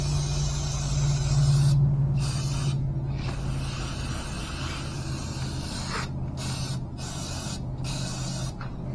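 Aerosol can of choke and carburetor cleaner sprayed in a long continuous hiss, broken by several short pauses and quick bursts near the end.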